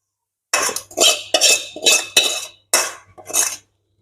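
Potatoes go into a pot of homemade chicken biryani with a series of about seven sharp metallic clanks and scrapes, close and loud, separated by brief silences.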